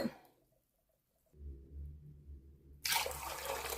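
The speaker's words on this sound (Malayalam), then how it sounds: "പയറുവർഗ്ഗങ്ങളിൽ കുറച്ച് കൂടുതൽ വെള്ളം ഒഴിച്ചു വെക്കണം" Water pours in a steady stream over soaking beans and lentils after a quiet pause, rising into a louder splashing gush at the end.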